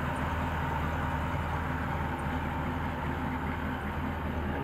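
A 1954 Buick Skylark convertible sits idling, a steady low rumble with an even, unbroken drone throughout, moderately quiet and heard from nearby with no talk over it.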